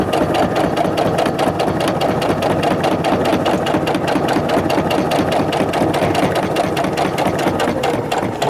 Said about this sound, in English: I'm going to take a couple stitches forward, a couple stitches back